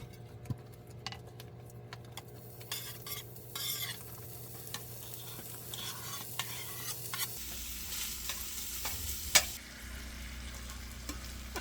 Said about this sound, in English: I'm just going to let these bacon and onions fry up